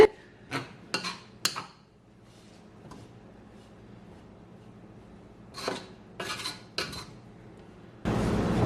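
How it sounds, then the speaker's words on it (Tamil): Flour being roasted for Sri Lankan seeni puttu, stirred in a pan with a ladle: a few sharp metal scrapes and taps against the pan, a quiet pause, another cluster of scrapes, then a louder rushing noise at the end. "இப்போ இதை நாங்கள் வறுத்தெடுப்போம் இப்படி கரண்டியால் இப்படி அமர்த்தி போட்டு ஒரு ஃபிஃப்டீன் செகண்ட்ஸ் விட்டுட்டு கிளறி கிளறி வறுத்தெடுப்போம்"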